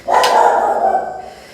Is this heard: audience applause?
no